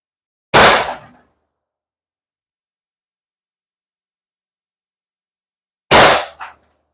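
Paintball marker firing paintballs through a chronograph: two sharp, loud isolated shots about five seconds apart, each a crisp bang with a short decay, amid near silence.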